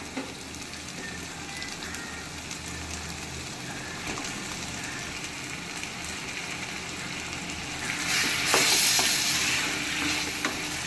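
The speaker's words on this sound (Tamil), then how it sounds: "இப்போ நம்ம இது கூட நறுக்கி வச்சிருக்கிற கத்திரிக்காயை ஆட் பண்ணி கிளறி விட்டுக்கலாம்." Chopped eggplant sizzling and frying in a hot pan while being stirred, a dense close crackle with scraping strokes that grows briefly louder near the end.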